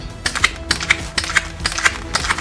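A long latex twisting balloon squeezed by hand so an air bubble forms, giving about five short rubbery squeaks in a quick irregular series, close and fairly loud with no talking.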